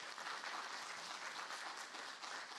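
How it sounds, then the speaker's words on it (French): Steady applause from a convention audience at a gaming festival video-creator panel, dense and continuous clapping filling the whole moment at moderate level. "on peut l'applaudir"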